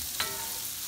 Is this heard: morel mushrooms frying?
yes